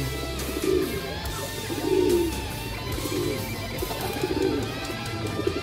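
Pigeons coo in low, repeated rolling calls, several distinct bursts spaced through steady background noise.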